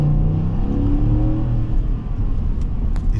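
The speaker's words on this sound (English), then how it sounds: "a 5-liter V8 that sings to you" A Ford F-150 XLT's 5-liter V8 revs loudly and close, a deep throaty roar with rising and falling harmonics sustained throughout, no voices.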